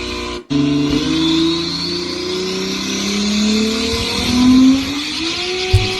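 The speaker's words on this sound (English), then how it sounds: "This is what a 2000 Supra sound like, recorded from another screen." A 2000 Toyota Supra engine revs loud and near, rising pitch sweeping up through several climbs, played back off another screen with a slightly hollow, boxy tone.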